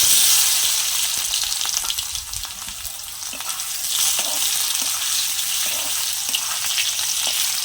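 Potatoes sizzling steadily in hot oil in a pan with bay leaf, cloves, cardamom, cinnamon and chillies, a loud, dense, continuous crackle close by, with light stirring and no talk.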